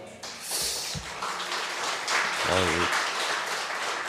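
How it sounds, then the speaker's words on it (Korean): A church congregation at a Sunday service applauds in a dense, steady wash of clapping, with a brief voice sounding partway through. "갑자기 박수를 쳐주시니까 제가 몸둘 바를 모르겠습니다."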